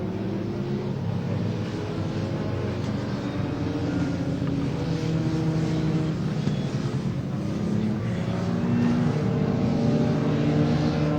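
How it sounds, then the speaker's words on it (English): Racing cars, among them Fords, Jaguars and BMWs, lap the Snetterton circuit during a BARC race meeting, their engines a steady, fairly distant drone that shifts in pitch under faint commentary. "Fords, Jaguars, BMWs, and much, much more on track at Snetterton"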